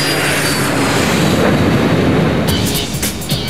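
Steady, loud roar of an airliner cabin during flight, a broad constant engine and airflow rush with a few faint clicks near the end and no talk.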